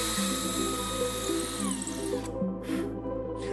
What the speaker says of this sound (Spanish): Hacemos estos 3 agujeros con una broca de 5 milímetros de diámetro.